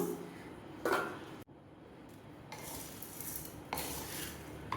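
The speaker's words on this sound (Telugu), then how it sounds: "వీటితో పాటు 1 కప్పు వరకు మినపగుళ్ళు కూడా వేసుకుంటున్నాను." Whole black gram dal going into a pan for slow roasting on low flame, a few close metallic clatters and rattling bursts separated by a short silent gap, no voices.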